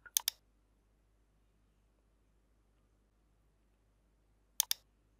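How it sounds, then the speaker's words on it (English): Two quick pairs of crisp computer mouse clicks, one at the start and one near the end, close and clear over near silence. "Right click on it and click on restart."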